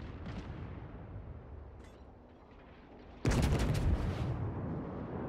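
A salvo of 320mm naval guns from a battleship in World of Warships erupts as one heavy, booming blast after a stretch of low ambient rumble, then rolls and fades slowly.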